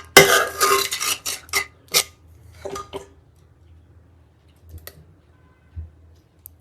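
Dishes and cutlery clink in a burst of sharp clatters as an Indian thali with rice and Himachali black chana choliya is plated at home, then fall to a few sparse, isolated taps.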